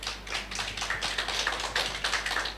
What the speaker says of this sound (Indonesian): Kasih tepuk tangan dong buat Tuhan.